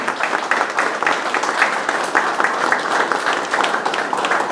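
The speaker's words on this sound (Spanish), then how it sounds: "Yo creo que todos nos merecemos un fuerte aplauso con cariño" Audience applause at a gathering about pisco, a dense, sustained round of clapping from a crowd, loud and near, with quick hand claps pulsing through the steady wash for several seconds.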